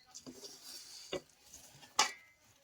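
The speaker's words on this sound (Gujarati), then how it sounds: "બસ બસ બરાબર રીતે મિક્સ કરી લઈએ કે જેથી કરીને બધામાં ગોળ" A spoon stirs jaggery into a laddoo mixture in a pot, making a few soft scrapes and clinks at close range in a quiet space.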